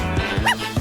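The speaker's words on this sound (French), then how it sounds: "Regardez, le chien." Miley the dog gives a few quick, close barks and yips in a short burst, set against steady background sound.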